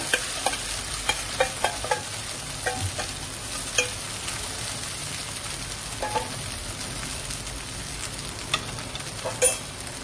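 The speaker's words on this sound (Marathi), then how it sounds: "हा व्यवस्थित मिक्स करून घेऊ" Soaked sabudana for khichdi is stirred in a pan over a low flame, giving a soft, even sizzle with frequent light taps and scrapes from the spoon.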